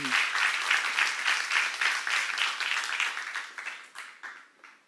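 A church congregation at a seminar breaks into sustained applause, a dense, even wash of many hands clapping that carries steadily and then thins out toward the end.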